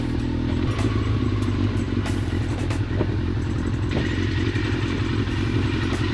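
A motorcycle engine idles and runs steadily up close with a rough mechanical clatter, loud and continuous, with no voices over it.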